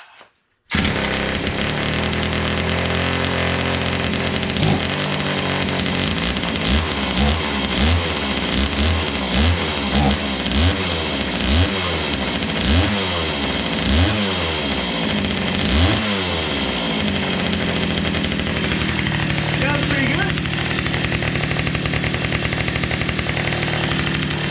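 Kawasaki engine swapped onto a Go-Ped GSR25 scooter fires up after a pull and runs loud and close, a buzzing two-stroke drone with rhythmic revving surges through the middle before settling to a steady high idle.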